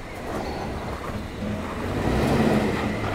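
A Subaru Forester e-Boxer hybrid rolls off an all-wheel-drive roller test rig with a low, swelling drive rumble that grows louder toward the end.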